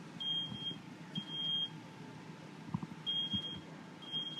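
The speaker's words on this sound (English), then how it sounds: "Y'all know what a smoke alarm or smoke detector sounds like?" A smoke alarm sounds in short high-pitched beeps, paired bursts repeating with gaps, moderately loud over a quiet room.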